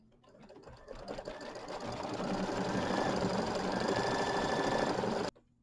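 A sewing machine quilting loop patterns on a Kimberbell mini quilt, running in a fast steady mechanical whir that builds up and holds for several seconds before stopping abruptly, close and alone.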